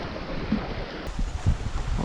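Gusty wind buffets the microphone outdoors on a lake, rumbling and roaring unevenly with a few stronger blasts.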